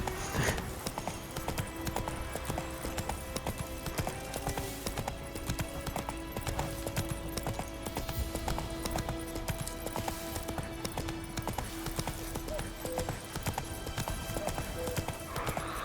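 Hooves of Geralt's horse Roach clip-clopping in a steady trot along a path in The Witcher 3: Wild Hunt, with a soft background music bed beneath.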